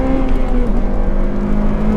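A 2007 Milano Red Honda Civic Type R FN2 revs hard into VTEC from inside the cabin, a loud, sustained high-pitched engine howl holding steady throughout.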